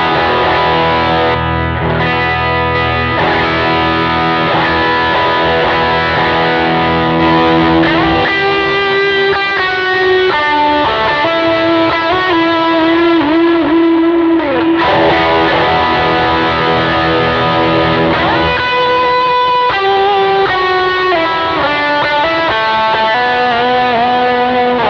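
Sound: heavily overdriven electric guitar lead tone

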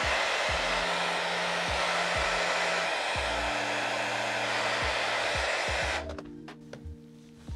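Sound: hair dryer blowing

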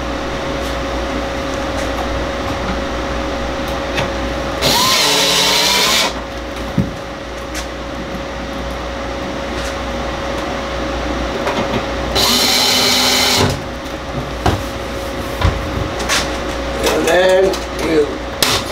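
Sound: power drill

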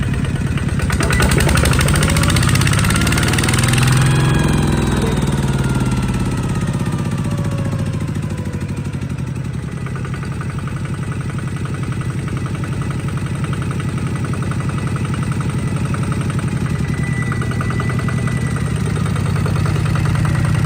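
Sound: diesel tractor engine revving

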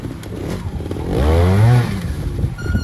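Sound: trials motorcycle engine revving

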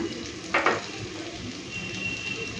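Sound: spice paste frying in a pan

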